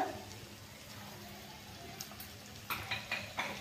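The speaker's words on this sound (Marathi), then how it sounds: "आता आपलं तेल गरम झालंय। आता यात घालून घ्यायचे आपल्याला 1 चमचा जिरे।" Cumin seeds hit hot oil in a pan, making a light sizzle with faint crackles, followed by a few clinking spoon and pan taps near the end.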